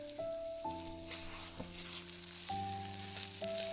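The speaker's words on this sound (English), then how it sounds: "the steak sizzled under the heat." Steak sizzling as it fries in a pan over a wood-fired stove outdoors in a forest, a steady crackling hiss under sustained musical tones.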